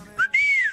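A clear whistled note, a short rising chirp followed by a longer sustained tone that gently falls away at the end.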